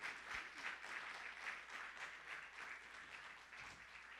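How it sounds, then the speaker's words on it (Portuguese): A church congregation gives steady, dense applause during a worship service, a continuous wash of many hands clapping at a moderate, somewhat distant level. "Dê uma salva de palmas ao Senhor Jesus."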